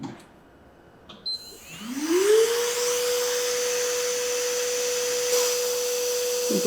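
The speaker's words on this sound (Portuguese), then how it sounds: "eu vou ligar o aparelho de polimento e vocês vão ouvir algum barulho porque ele tem" A nail polishing machine with built-in suction switches on. After a few faint clicks, its motor whirs up into a steady, sustained electric hum that stays loud and constant.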